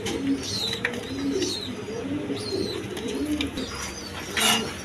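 A pair of cream-bar German Beauty pigeons coo in soft, repeated rolling calls, close by, with faint chirps from other birds mixed in and no talking.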